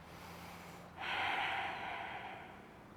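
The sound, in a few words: cleansing breath during yoga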